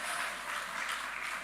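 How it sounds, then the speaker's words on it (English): Audience applause at a maternal and child health conference in East Africa, a steady, even wash of clapping that holds at moderate level throughout without any voices. "Another round of applause."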